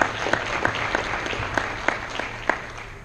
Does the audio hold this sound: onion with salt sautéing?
no